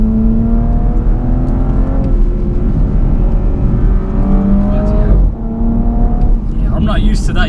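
A 2018 Audi S4 Avant engine pulling hard through a bend, heard from inside the car as a loud rising drone with climbing harmonics, dipping briefly with a gear change before building again, with someone talking over it.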